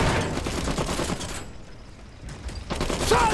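Rapid rifle and machine-gun fire from soldiers in the real-time strategy game Iron Harvest, a dense volley that thins briefly midway before resuming near and loud with a mechanical clank at the end.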